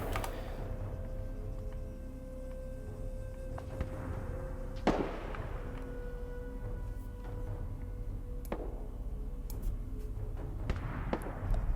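Distant gunfire in the military video game Arma 3, a few sharp cracks and shots scattered over a low rumbling battlefield ambience, fairly faint overall.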